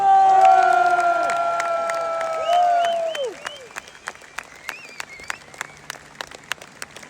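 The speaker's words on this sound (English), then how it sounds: "Let's have a round of applause for her mum and dad as well" Crowd applause and cheering at a street march in London, loud at first and then thinning into scattered individual claps and a few shouts.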